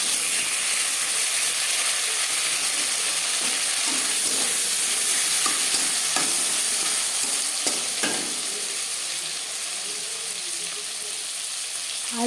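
Chopped tomatoes frying in oil in a pan for a Bengali rui fish curry, giving a dense, continuous hiss that eases slightly toward the end, with a few faint utensil clicks.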